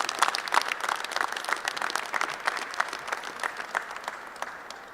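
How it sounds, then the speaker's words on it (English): An audience applauds Representative Ryan McKenzie at a session on the opioid epidemic, a steady wash of clapping from a mid-sized crowd that holds even and then tapers slightly at the end. "Please, a big round of applause for Representative Ryan McKenzie."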